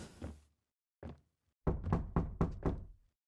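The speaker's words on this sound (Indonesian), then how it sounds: "Ada yang ngetok pintu" Knocking on a door in the horror game Unmourned: a couple of isolated thuds, then a quick burst of five heavy knocks, clear and close against silence.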